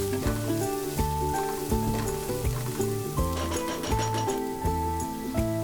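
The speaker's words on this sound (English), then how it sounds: "in a hot pan add oil, add 2 onions chopped and fry the onion until it is nice and soft" Chopped onions fry in oil in a hot pan for a pork biryani, a soft steady sizzle under a repeating melodic music track that dominates the sound.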